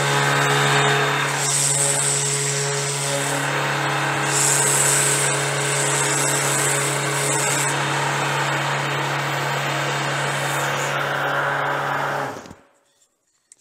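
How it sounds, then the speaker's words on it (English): A random-orbit sander mounted in a Woodpeckers Sandstand tilting base runs against the edge of a wooden workpiece, a loud, steady whirring grind for about twelve seconds before it switches off and winds down. "I'll just start by sanding this piece, maybe do a little contour of the edge here,"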